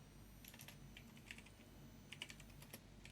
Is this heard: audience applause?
no